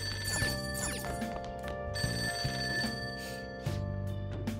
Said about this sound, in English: It's a payphone.